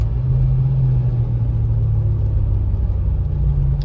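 A Mitsubishi Pajero engine is driven hard, a loud, low, steady rumble with a deep drone that holds without pause and has no talking over it.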